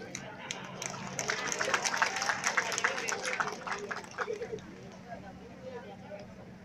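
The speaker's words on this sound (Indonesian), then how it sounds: "Beri tepuk tangan yang meriah untuk penampilan Polisi Cilik Polres Lampung Barat" Applause from an audience for a children's police troupe performance of Polisi Cilik Polres Lampung Barat, a moderate burst of clapping that swells and then thins out, with voices talking over it.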